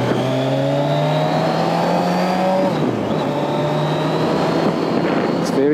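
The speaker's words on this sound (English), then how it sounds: "It looks and feels and sounds like a sport bike" A smooth, high-revving four-cylinder Kawasaki Ninja Z1000SX sport motorcycle engine, loud and steady, its whine climbing then dropping as it shifts gear, with wind noise around it.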